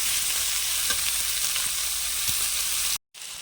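Onions and green chillies frying with turmeric, chilli powder and salt in a pan, a steady close hiss with faint spatters and a couple of soft taps, cut off by a short silence near the end.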